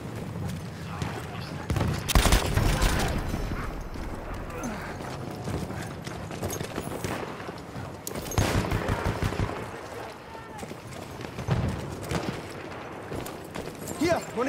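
Chauchat machine gun firing in Battlefield 1 on the Passchendaele map, in rattling bursts amid battle noise, hoofbeat-like clatter and shouting, with people talking throughout.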